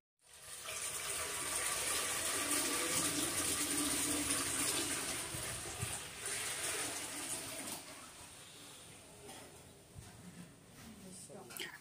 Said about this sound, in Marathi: पातेल्यामध्ये पाणी टाकलं